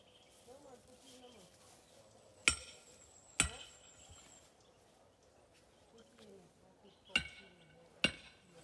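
A sledgehammer lands four loud, sharp blows outdoors in Jamaica, two close together early and two later, with quiet voices and faint background sounds between the hits.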